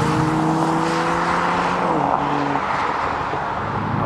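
A 2020 Toyota GR Supra with a 340 hp turbo engine pulls from about 2000 rpm. Its steady engine drone holds near and loud for around two seconds, then drops in pitch as the car shifts or changes load, with continuous broadband road and wind noise underneath.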